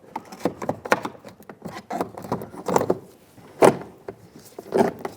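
Plastic clicks and knocks as a door handle bezel is pried off the rear door panel of a 2011-2018 Ram 2500 pickup, a run of short, close snaps and taps with a couple of louder pops, no talking.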